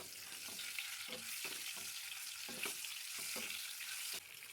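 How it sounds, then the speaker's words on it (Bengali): Eggs fry lightly in white oil in a wok with a constant, fairly quiet crackling sizzle. Soft, irregular taps and stirring sounds come through every second or so. "ডিমগুলো হালকা করে ভেজে নেব।"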